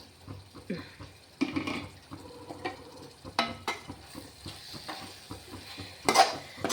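Mutton biryani masala gets stirred in a pot, giving intermittent scraping and clinks of a spoon on metal over a faint simmering sizzle, with a sharper clatter near the end.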